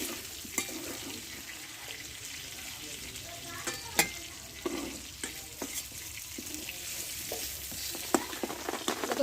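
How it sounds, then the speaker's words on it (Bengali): Bitter gourd pieces fry in oil for a masala curry, giving a constant crackling sizzle with sharp pops and spoon stirs near at hand and little or no talk. "উচকেটা নরম হয়ে এসছে আমি এবার নামিয়ে নেব ভালোভাবে কষে নিয়েছি"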